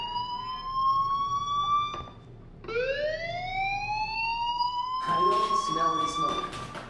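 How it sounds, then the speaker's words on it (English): A fire alarm wails in the video game Life is Strange, a loud rising siren tone that sweeps up repeatedly with a short break, while a voice talks over it. "do you hear that fire alarm?"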